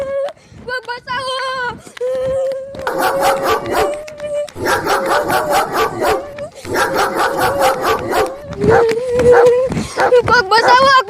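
A village dog barks and yaps repeatedly, loud and close, in rapid bursts with whimpering, howl-like tones, while someone shouts in distress over it.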